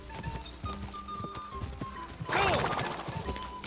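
Horses gallop with rapid hoof clip-clops during a horse race in the Kingdom Come Deliverance 2 video game, and a loud whinny cuts in partway through.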